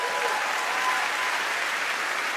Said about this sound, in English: That deserves applause, guys.